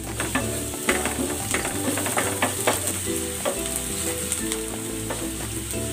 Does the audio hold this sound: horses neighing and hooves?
no